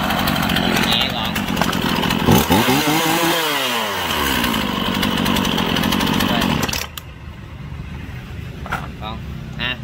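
A Komatsu G3500 chainsaw runs loud and close, its engine revving up and down in a sweeping whine before dropping back to a rough idle near the end.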